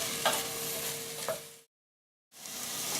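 Sugar snap peas sauté in a stir-fry pan with a steady close sizzle and a couple of sharp spatula scrapes. The sound drops to full silence for about a second, then the hiss returns.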